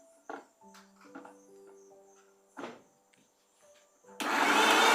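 A mixer grinder whirs to life near the end, blending ingredients with plenty of milk for children at a Christmas program; its loud, steady motor roar follows scattered quieter tones and knocks.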